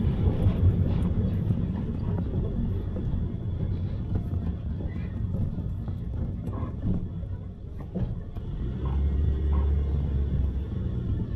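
Heavy trucks and traffic rolling along the Star Tollway expressway, a continuous low rumble with a brief deeper swell near the end, heard steadily from inside a moving vehicle.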